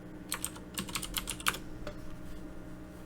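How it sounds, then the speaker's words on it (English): Computer keyboard keys tapped in a quick burst of clicks while a console command is entered in a paused video game, then a few isolated keystrokes trailing off over steady low room hum. "I type spawn Crabsquid"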